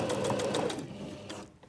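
A sewing machine stitches a zip into a cushion cover, its motor buzzing close and loud in a fast steady run for about a second and a half before stopping abruptly.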